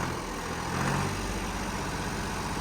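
A tractor engine idles steadily with a low, even rumble, close and continuous for a moment on a farm while fodder is being cut.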